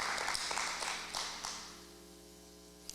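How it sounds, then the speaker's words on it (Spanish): Brief clapping from a church congregation during Sunday worship fades out over the first second and a half, leaving a low hum and quiet room tone with a faint tap near the end. "Dale fuerte el aplauso al Señor en alabanza y adoración"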